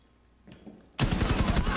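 Automatic gunfire in the video game Rainbow Six bursts in loudly and close after a near-silent start with a few faint clicks, the rapid shots running steadily to the end.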